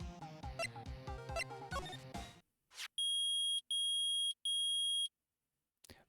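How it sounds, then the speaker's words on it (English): The metal detector in Phoenix Wright: Ace Attorney lets out three long, loud electronic tones in a row, each lasting most of a second. Chiptune game music plays just before, and there is no speech. "It's beeping! The metal detector's found something!"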